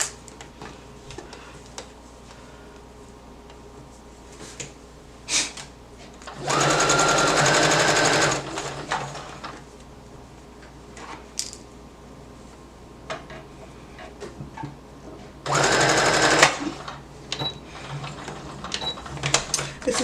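A sewing machine stitches a romper waistband through three layers of fabric in two loud, steady bursts of rapid mechanical whirring, each about two seconds long. Quiet handling noises and a speaking voice fill the gaps.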